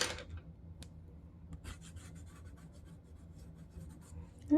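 Polychromos colored pencils scratch and scribble across paper in short, quiet strokes at close range, with small pauses between marks and a sharp clatter at the very end.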